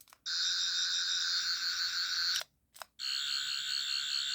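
A toy Fourth Doctor sonic screwdriver from Doctor Who emits a loud, high electronic whirring tone, cutting off briefly with clicks before sounding again, close and sustained.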